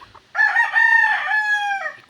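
A backyard rooster crows once, close and loud, a single drawn-out call lasting about a second and a half against an otherwise quiet yard.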